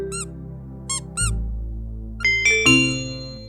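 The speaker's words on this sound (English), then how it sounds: "When you squeeze it, it squeaks, squeak." A squeezed rubber duck gives several short, bright squeaks in separate bursts, close and fairly loud, with a few longer squeaky tones toward the end.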